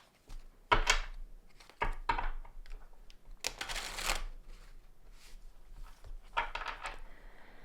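Tarot cards being shuffled by hand, several crisp riffling bursts and soft shuffles close to the microphone, quiet and irregular, with no talking.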